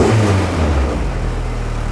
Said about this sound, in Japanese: ちょっとエンジンかけてみてください